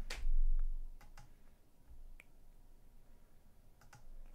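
Password keys typed on a keyboard for Kali Linux running on a Raspberry Pi 5, heard as a handful of sharp, separate clicks spread over a few seconds, with a louder thump at the start.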